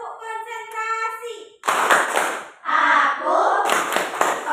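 A fifth-grade elementary school class chants in unison, then performs a rhythmic concentration clap: three bursts of loud, close group hand clapping separated by short pauses.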